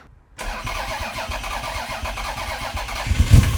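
Car with 244,000 km on the clock cranking after a brief silence, then catching and settling into a steady idle, with a louder rev burst near the end.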